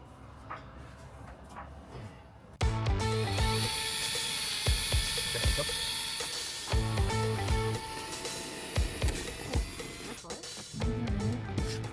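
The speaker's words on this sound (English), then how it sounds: "Time to drill into my shelf." A power drill whirs loudly in several bursts, revving and biting into a shelf on a boat up close, with brief pauses and some faint background noise.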